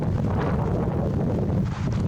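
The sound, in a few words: wind blowing on a canyon rim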